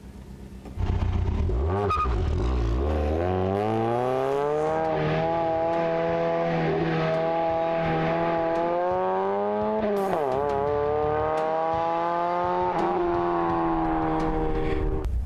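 A race car on a drifting course held mostly in second gear, engine revving up and down loudly and close, pitch rising and dipping through the turns with occasional tire squeal, no talk.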